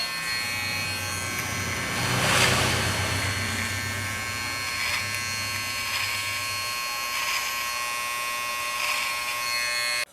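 An electric hair clipper hums steadily close by while trimming a drop fade with the tip of the blade, its whine swelling in brief bursts as it meets the hair, with a low motor drone under the first part.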